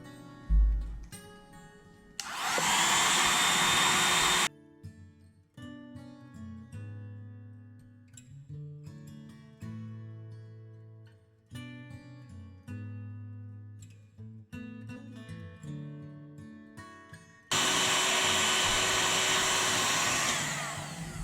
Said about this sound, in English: Allie's gonna go ahead and heat it up with the hairdryer.